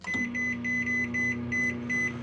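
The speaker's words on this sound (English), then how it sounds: "I'm going to go ahead and put the chartreuse in the microwave" A microwave oven heating chartreuse plastic for dual-color fluke soft-bait molds gives a steady electrical hum, while a series of short, high beeps repeats at an even rhythm over it.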